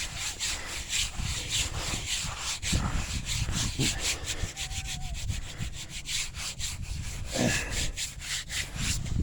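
Hands rubbing the weathered face of an old flat gravestone with a leaf design in a church cemetery, a steady scratchy scrubbing of repeated strokes, close and fairly loud, with no talking.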